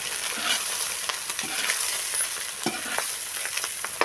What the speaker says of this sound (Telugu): అడుగు అంటుకోకుండా అప్పుడప్పుడు కలుపుకుంటూనే ఉండాలి